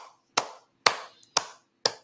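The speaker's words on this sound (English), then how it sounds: "Then let's clap" Four sharp, evenly spaced hand claps ring out close and alone in a quiet room during a gentle warm-up exercise, with a faint small tap between two of them.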